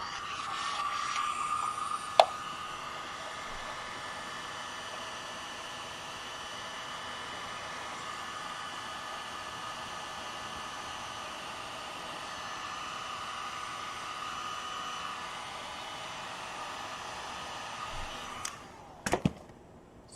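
A heat gun blows hot air in a steady, loud broadband hiss that holds nearly unbroken for about eighteen seconds, with a sharp click early on and a few clunks as it shuts off near the end.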